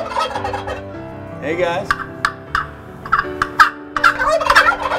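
A handmade turkey call imitates wild turkey gobbles outdoors: loud, close, rattling gobble bursts repeat in quick succession after a brief spoken greeting.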